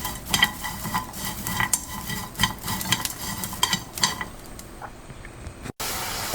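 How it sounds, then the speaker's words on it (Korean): Anchovies sizzle and rattle in a pan as they are stir-fried, with repeated scraping strokes of a utensil, close and moderately loud, then briefly cut out. "볶아줍니다."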